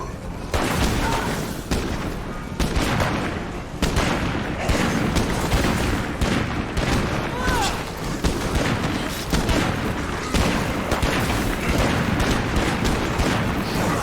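Sustained gunfire in a video game fight against feral enemies: dense, loud bursts of shots and booms rolling almost continuously with little pause.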